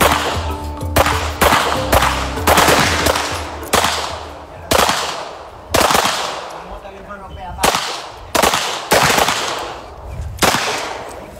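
Gunfire at a shooting range in Puerto Rico, a fast run of loud, cracking shots in irregular bursts with several quick doubles, echoing sharply, close and dominant over faint background noise.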